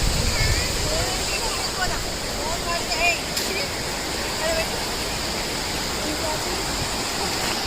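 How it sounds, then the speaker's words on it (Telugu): Steady broadband rush of the Narmada Maner waterfall, water pouring continuously from a height, a constant, fairly loud wash with faint background voices mixed in. "Narmada Maner water falls."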